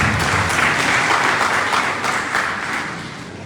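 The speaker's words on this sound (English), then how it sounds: "A round of applause for our panelists." An audience applauds the panelists at a national stakeholders dialogue, a dense and steady wash of clapping that eases slightly toward the end.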